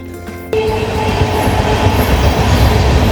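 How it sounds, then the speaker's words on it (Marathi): The Kashi Express passenger train from Gorakhpur to Mumbai rushes past up close near Manmad after a brief quieter moment, a loud steady roar of wheels and carriages rattling along the track. "दुसरी ट्रेन पाच होते ही टुवर्ड्स मुंबईला जाते काशी एक्सप्रेस गोरखपूर टू मुंबई"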